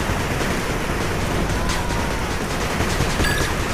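Dense, continuous gunfire from a machine gun turret in the 8-Bit Armies strategy game, a steady loud crackling barrage with no pauses, mixed with game effects and no talk.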